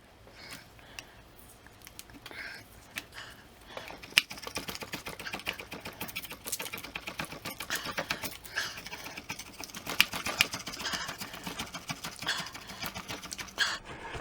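Sticker slowly peeled off the casing of a Booster Pac ES2500 portable power pack, a faint, steady crackling and ticking with small snaps, close by and on its own.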